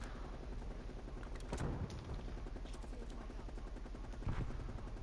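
Automatic gunfire in Call of Duty: Black Ops Cold War as a player unloads a weapon, sharp bursts of rapid shots over a busy game background, moderately loud with a couple of stronger bangs.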